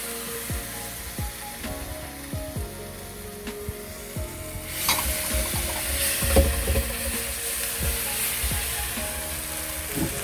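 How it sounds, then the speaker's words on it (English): Ketchup and Sriracha sauce toasting in a frying pan for chilli paneer, a steady close sizzle with scattered crackles and pops, the clatter of a spoon stirring and tapping the pan, and the frying growing louder about halfway through. "Toast that off very slightly, and then add your tomato ketchup and your Sriracha sauce."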